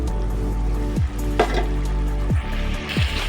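Fried prawns dropped into simmering curd gravy in a pan: a low bubbling hum with a few soft sloshing thuds and a brief splash, fairly loud and close.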